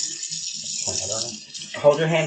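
A faucet runs warm water into a sink during a hand hygiene demonstration in a lab, a soft, steady hiss beneath a person talking.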